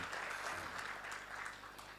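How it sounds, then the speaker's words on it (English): An audience claps steadily through a government progress-report event on Gauteng's smart city strategy, a continuous moderate wash of applause for about two seconds. "Now let's clap for Samu and Imatu, please."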